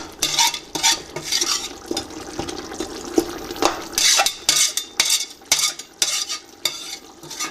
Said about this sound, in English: I scrape the sides to take all the masala from all over the